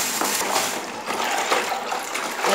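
Water poured into an ice bath, a continuous close splashing and gushing with uneven surges, fairly loud and alone, running through the whole short stretch.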